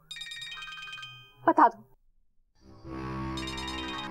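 A phone ringtone plays a tinkling melody, stops as a voice speaks briefly, then another ringing tone starts up and continues.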